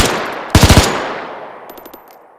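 A short, loud burst of about four rapid shots from an MG34 machine gun mounted on a WW2 armored vehicle in Arma 3, followed by a long decaying echo and a quieter trailing burst.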